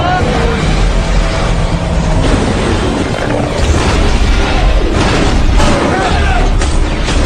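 A luxury ship crashes into a huge tsunami wave in a film disaster scene: loud, sustained roaring rumble with booming impacts and crashing debris throughout, dense and continuous.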